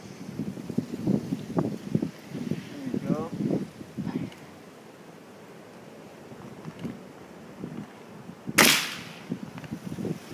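Crosman Phantom air rifle fired outdoors, one sharp loud crack near the end after people talk close to the microphone over wind noise.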